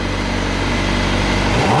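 A 2020 Honda CBR1000RR-R Fireblade engine runs through an Akrapovic exhaust, a loud steady close drone that swells into a rising rev near the end, with no talk over it.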